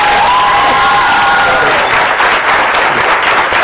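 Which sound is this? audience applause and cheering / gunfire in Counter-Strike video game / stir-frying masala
audience applause and cheering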